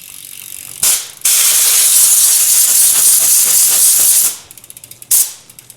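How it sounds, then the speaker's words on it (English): Compressed air blasts loudly over a bicycle cassette and drivetrain during a tune-up of an All City Cosmic Stallion: a short burst, then a long steady hiss, then rapid ratcheting clicks as the freewheel spins, and a final brief blast. "And then finally a little bit of compressed air."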